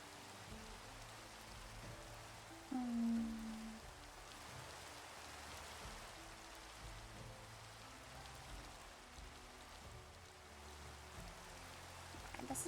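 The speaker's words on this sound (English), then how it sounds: "Why is it raining so bad?" Video game rain, a faint, steady patter and hiss of drops falling on surfaces, continuous throughout with a brief low tone near the start.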